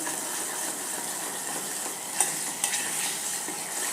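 Steady sizzling as coconut, garlic paste and spices are stirred in a hot pan for dal-potato amti, with a couple of sharp scrapes of a utensil against the metal.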